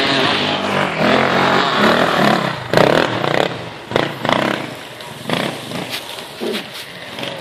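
An enduro motorcycle engine at Nova Kapela revs loudly in repeated bursts that rise and fall over a rough, continuous roar, close by.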